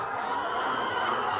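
A commercial flock of about 2,000 laying hens on a Kenyan poultry farm clucks in the morning, a dense, continuous murmur of overlapping bird calls at moderate level with no talking.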